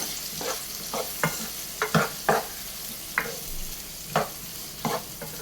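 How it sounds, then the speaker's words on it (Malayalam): Banana mixture sautéed and stirred in a pan, with a soft background sizzle and repeated spoon scrapes and taps at an irregular rhythm, close and moderately loud. "ഇതും കൂടെ ചേർത്ത് നല്ലതുപോലെ ഇളക്കി മിക്സ് ചെയ്ത് നല്ലതുപോലെ നമുക്കിതൊന്ന് വഴറ്റിയെടുക്കണം"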